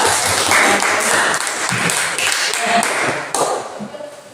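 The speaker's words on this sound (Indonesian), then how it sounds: "Oke, tepuk tangan ke kelompok." Classroom students clap for a group during a lesson, a busy patter of hands with some taps and voices mixed in, fairly close and fading toward the end.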